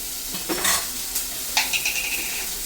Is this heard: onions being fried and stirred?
yes